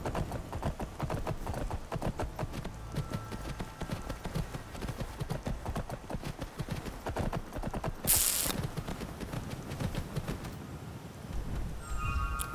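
Horse hooves clip-clopping in a steady, fast rhythm while riding in Skyrim, close and continuous for the whole stretch, with a brief louder hiss partway through.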